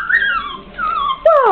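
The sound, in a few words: puppies whimpering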